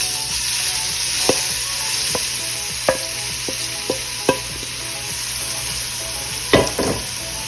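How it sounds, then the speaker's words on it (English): Beef browning in hot oil in a pot for a stew gives a steady close sizzle, broken by several sharp clinks and scrapes as the meat is stirred and turned. No one speaks. "I'm gonna add in the beef and brown it on all sides."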